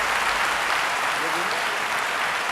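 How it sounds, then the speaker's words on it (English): An audience at a mayoral candidate housing forum in Atlanta gives sustained applause, a dense wash of many hands clapping, with a voice speaking faintly underneath. "Let's give all of the candidates a round of applause"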